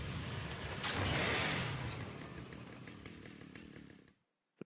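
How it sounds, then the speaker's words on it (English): Video game chainsaw from Lollipop Chainsaw revving loudly and steadily for about four seconds, with a buzzing motor roar that swells early on, then cuts off abruptly into silence. "I really like that she always has the chainsaw."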